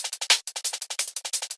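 A punchy sampled drum break, crisp snare hits and tight hi-hats in a quick, steady groove, played alone and fairly loud.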